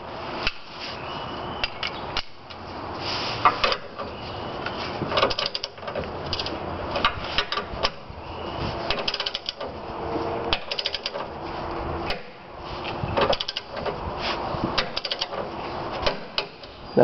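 A torque wrench tightens tow hook bolts on a frame rail of a 1997 Ford Ranger 4x4, heard as bursts of rapid ratcheting clicks and metallic clatter with short pauses between strokes, close and moderately loud, with no talking.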